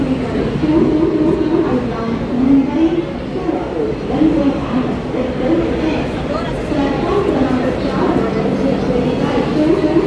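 A Vande Bharat train arrives at a station platform: a steady, loud rumble and rolling noise fill the whole stretch, with crowd chatter mixed in.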